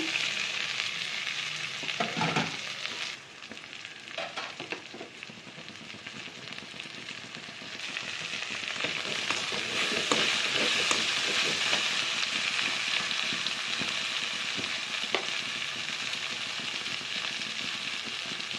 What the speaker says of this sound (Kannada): ಇವಾಗ ಬೆಂಡೆಕಾಯಿ ಹುರ್ಕೊಂಡಿರೋ ಹಾಕೋಣ.